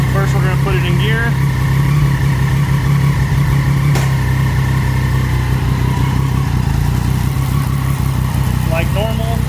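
A warmed-up 2014 Triumph Daytona 675R motorcycle engine runs at a steady, loud, close idle while in gear, with someone talking over it.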